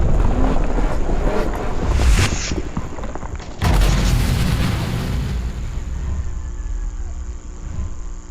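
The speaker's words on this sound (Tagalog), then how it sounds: "Jess, sumabog yung mundo" The world exploding in a Roblox horror game: a roaring, rumbling wash of noise broken by a sudden deep boom midway, followed by a long, fading rumble.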